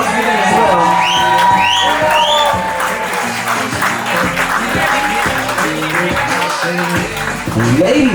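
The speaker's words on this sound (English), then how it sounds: "Let's get a big round of applause for them as well" Wedding guests in a garden clapping and cheering for a couple being announced, a dense round of applause with whoops, over an amplified announcer's voice and music.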